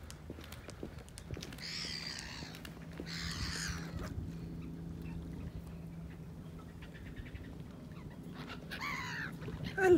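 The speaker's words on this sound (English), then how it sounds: "Hello, seagull mate." Seagulls call beside the River Mersey in Liverpool, several harsh squawks at a moderate distance, spaced out across a steady rumble of wind and water.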